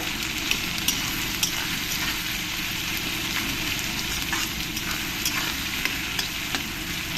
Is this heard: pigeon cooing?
no